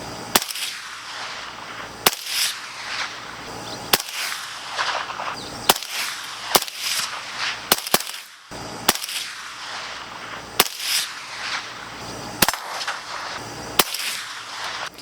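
Suppressed rifle shots from a Ridgeback Defense Rhino X suppressor on a 14.5-inch barrel, about a dozen sharp cracks fired at irregular intervals of one to two seconds, each with a brief reverberant tail outdoors.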